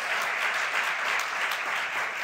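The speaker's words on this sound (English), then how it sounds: "Let's give them and our leaders a round of applause." Sustained applause from an audience at a sponsored organizational event, dense and steady throughout with no talking.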